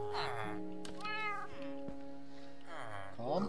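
Several drawn-out Minecraft cat meows with a slightly synthetic quality, close and clear over a steady hum of game background music.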